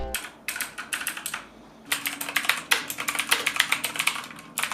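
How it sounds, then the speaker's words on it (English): Rapid clicky keystrokes on a Motospeed CK108 mechanical keyboard with blue switches, close and crisp, in quick bursts with a short pause partway through; no voices. "They're very clicky, as you'd expect blue switches to be. Here's what they sound like."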